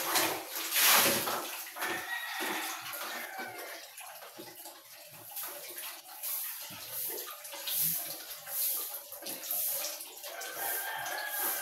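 Cold water is poured and splashed during an outdoor bath, a steady rushing wash with intermittent splashes that lasts throughout, while a rooster crows faintly in the background and no one speaks.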